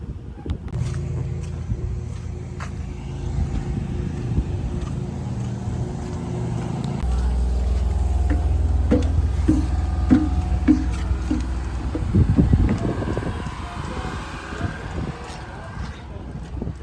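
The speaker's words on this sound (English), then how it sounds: "Behind me is the ferry that's going to take us over to the National Seashore itself" A ferry's low, steady engine rumble drones throughout before a crossing to Cumberland Island, Georgia, rising in intensity midway, with faint clatter and background activity layered over the hum.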